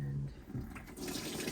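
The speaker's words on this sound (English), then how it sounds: "I'm going to put about a gallon into this 2-gallon bucket that I have." Water pours into a 2-gallon bucket for laundry washing, a close, rushing splash lasting about a second and a half.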